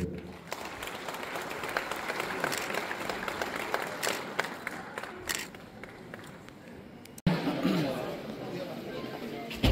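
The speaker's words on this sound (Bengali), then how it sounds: "সবার কাছ থেকে জুড়ে করতালি আশা করব" Audience applause at a flood relief distribution event in West Tripura, a steady mass of clapping with crowd chatter underneath, briefly cutting out near the end before resuming loudly.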